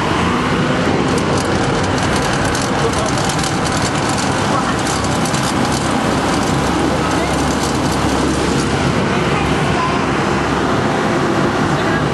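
Steady loud engine drone of an amphibious duck boat motoring along the Wisconsin River, with wind rushing past and a constant churning hiss throughout.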